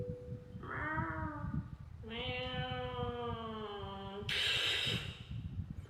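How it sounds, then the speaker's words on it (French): A cat meows three times in long, drawn-out calls, close and clear, each one rising in pitch and intensity. "avoir des bruits de chat et ajouter ça à mon montage"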